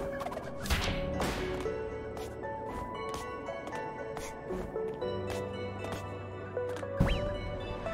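Bird squawks and gobbling calls in A Hat in Time, scattered across the clip over busy game music and effects, with a few sharp chirps standing out near the start and end.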